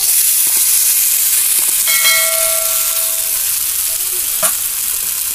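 Soaked sabudana, or tapioca pearls, frying in a hot pan with a loud, steady hiss and sizzle. Brief whistling steam tones rise midway, with a few light stirring knocks.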